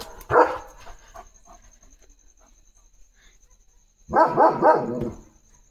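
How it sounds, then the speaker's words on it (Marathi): A dog barks, first a single sharp bark, then after a quiet gap a quick run of several barks, each clear and fairly prominent against a quiet background. "किती लांब ते डॉग दुसरं भुंकत आहे."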